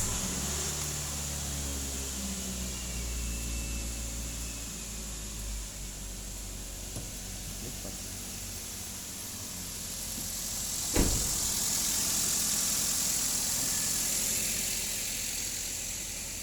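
A Daihatsu Xenia engine running with a steady, even hum and hiss, broken by one sharp, brief burst about two-thirds of the way through, then settling back to a constant idle. No one speaks.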